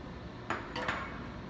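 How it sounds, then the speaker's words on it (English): Several garlic cloves tossed into a metal pot while braising pork butt, giving two or three soft, brief clinks and thuds close by against a low kitchen background, with no talking. "And then about 12 to 15 garlic cloves. Just throw them right in there."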